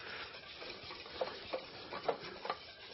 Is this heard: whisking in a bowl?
yes